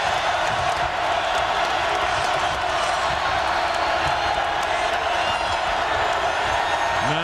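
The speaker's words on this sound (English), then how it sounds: "Now this crowd is up and really into the ballgame" Basketball arena crowd at a 2006 Big 12 game, Kansas at Oklahoma State, a dense, sustained roar of cheering filling the space beneath a commentator's voice.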